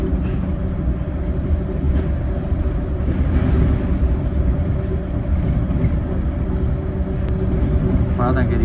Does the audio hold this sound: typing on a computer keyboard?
no